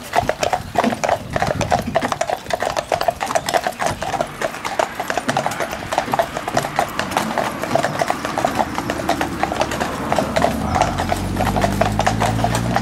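Hooves of four carriage horses in a four-in-hand team clip-clop steadily along a road, a dense, continuous rhythm of many overlapping steps, close and loud, with a low engine rumble rising near the end.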